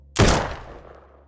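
A single rifle gunshot sound effect in a canyon, one sharp loud crack that decays into a rolling echo lasting about a second, with no voices.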